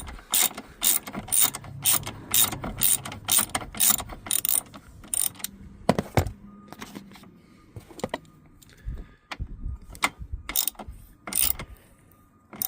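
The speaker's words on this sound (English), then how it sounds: "I'm using Torx bit number 50." A ratchet drives a Torx 50 bit on a Dodge Grand Caravan passenger seat track, giving rapid bursts of sharp clicking in repeated runs, some quick and dense, others sparse, with short pauses between, close and distinct.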